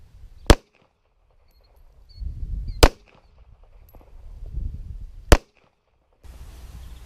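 Three sharp Walther CCP pistol shots spaced a couple of seconds apart ring out loud and close at a target, with quiet rustling and handling noise between them and no talk.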